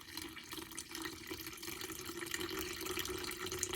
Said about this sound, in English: if you pour from higher, it pushes the juice through better and it doesn't pool up as much